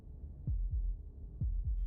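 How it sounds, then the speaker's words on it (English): In the video game Slay the Princess, a heartbeat thuds twice, pauses and thuds twice again: low, close, muffled lub-dub beats over a soft hum. "That was the sound of a heartbeat,"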